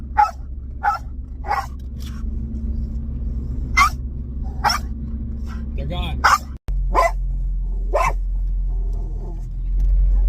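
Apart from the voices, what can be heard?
dog barking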